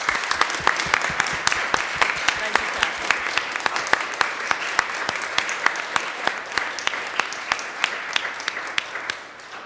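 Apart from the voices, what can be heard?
audience round of applause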